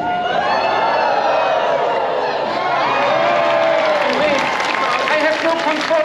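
At an outdoor street arts festival, a crowd screams, cheers and claps in a loud, unbroken roar, with high shrieks and whoops rising over dense applause.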